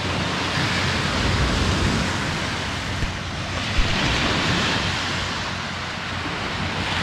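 Broad, steady wash of Black Sea surf on a beach at Amasra, Turkey, with a soft roar rising and falling gently and some wind, no voices.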